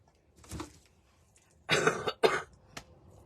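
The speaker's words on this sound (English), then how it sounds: "every once in a while I have to cough" Two loud, close coughs in quick succession, with a softer throat sound before them and a brief click after, in an otherwise quiet room.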